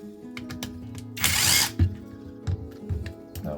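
Small power tool work on a non-genuine SDS drill casing as a screw is undone: clicking ratchet-like ticks with a brief loud whirring burst midway, followed by scattered taps and knocks, close and moderately quiet.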